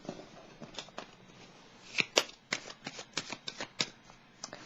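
Tarot cards are shuffled and drawn during a reading, a close, quiet run of crisp flicks and riffles in an irregular rhythm, with no voice over them.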